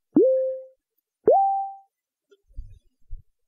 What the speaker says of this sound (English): This sounds like water drops.